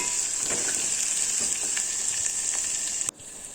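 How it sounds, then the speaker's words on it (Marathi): Mustard seeds, cumin and chopped garlic frying in hot oil for a festive thali give a steady, close, bright sizzle with scattered crackles and pops, dropping suddenly quieter near the end. "आता हे सगळं असं छान ह्याच्यामध्ये तळून घेऊया"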